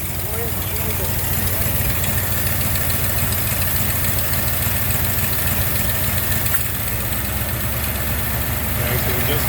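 1990 Jeep Grand Wagoneer engine idling with the AC compressor engaged, a steady loud low rumble with a faint knocking pulse, close by, with people talking over it.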